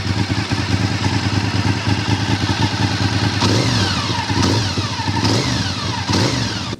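A 2004 Honda RC51 Nicky Hayden Edition motorcycle engine revs loud and close, climbing through the gears with repeated rising sweeps and brief dips at each shift, a whining edge over the rough exhaust note.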